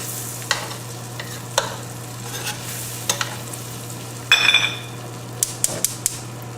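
Garlic sizzles gently in butter in a pan with the flame off, a quiet steady hiss broken by scattered utensil clicks and a brief burst of louder scraping.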